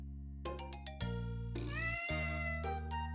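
A cat in the visual novel Amatarasu Riddle Star meows clearly several times in short, bright calls, backed by a sustained musical score with no talking.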